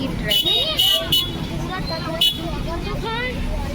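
Jammed traffic on a Delhi road: steady engine and road noise with repeated short car and bus horn toots, some overlapping, while people talk nearby under the din.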